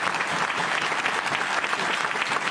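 Dense, steady applause fills a chamber of Argentina's Chamber of Deputies, a continuous loud wash of many hands clapping with no voices.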